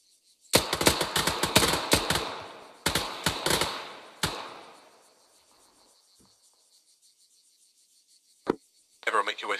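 L131A1 pistol shots crack sharply on an Arma 3 shooting range, fired in quick bursts of several rounds with short pauses between. A few isolated shots and a brief voice follow at the end.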